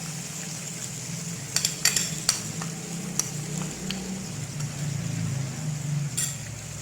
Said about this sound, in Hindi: इसको अच्छी तरीके से मिक्स कर लें।